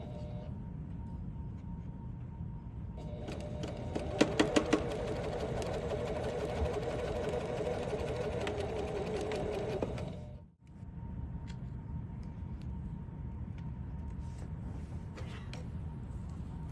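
A sewing machine runs steadily while stitching a seam joining mitered quilt binding ends, a close, even mechanical whir that stops abruptly partway through, leaving quieter room noise.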